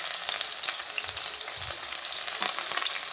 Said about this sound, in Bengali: পেঁয়াজ দিয়ে দিলাম, কাঁচা লঙ্কা দিয়ে দিলাম কাটা।